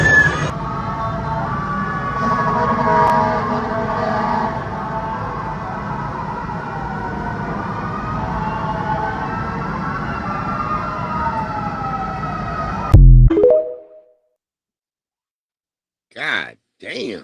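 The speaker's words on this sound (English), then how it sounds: "Look how long it took the fire engines to show up" Fire engine sirens wail loudly and continuously as the trucks arrive at a burning building, the rising and falling tones holding for about thirteen seconds before cutting off abruptly, followed by silence and a couple of brief voices.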